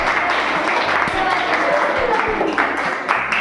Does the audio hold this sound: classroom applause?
yes